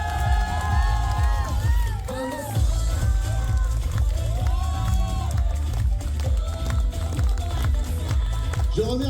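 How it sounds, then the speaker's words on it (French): An excited crowd cheers and whoops for dancers at a furry dance show, with shrill rising shouts and whistles over heavy low thumping and rumbling, loud and continuous throughout. "applaudissez-les, ils ont été incroyables"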